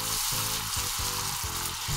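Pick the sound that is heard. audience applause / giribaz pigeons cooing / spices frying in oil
spices frying in oil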